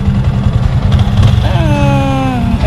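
Yamaha Sniper 155 motorcycle engine running steadily up close with a deep, throbbing low rumble, and rising whine-like tones appearing partway through.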